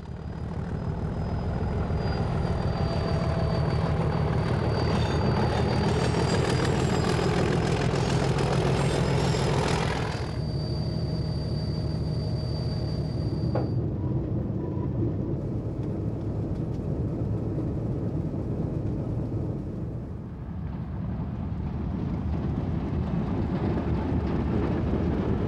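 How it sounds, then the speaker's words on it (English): A diesel electric locomotive works along a Queensland line: a loud, steady engine drone with a high whine on top that drops away midway, then a continuous rumble that carries on close by. "PB 15732 and diesel electric loco"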